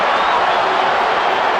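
Stadium crowd roaring at a football match between Real Madrid and Manchester United, a dense, steady wash of distant cheering and noise filling the air without a break.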